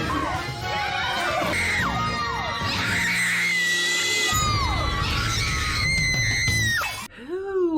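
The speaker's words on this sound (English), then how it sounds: "Who is screaming like that?" A woman screams again and again, shrill and loud, while chasing a pig during a reality-show challenge. A rowdy crowd whoops and shouts throughout, and a final high shriek follows a short pause.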